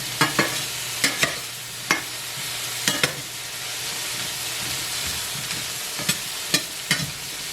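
Salmon fries in a pan on a stove for a green tomato curry, with a steady sizzle and repeated sharp clinks and scrapes of a utensil against the pan.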